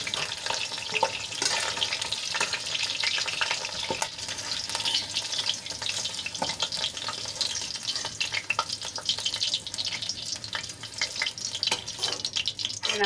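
Potatoes and brinjal fry in hot oil in a kadai, giving a steady, close, dense sizzle with small crackles and pops throughout, no voices over it.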